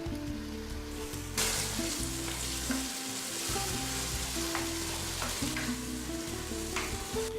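A plant-based meat product sizzles steadily in a hot pan alongside vegetables, a loud continuous frying hiss with occasional crackles and pops, close up and without talk.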